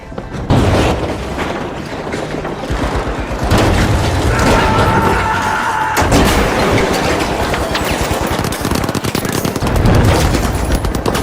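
A pyro grenade thrown and bursting during a match of the shooter game The Finals, amid loud, continuous rapid gunfire and repeated booming explosions that fill the whole stretch without pause.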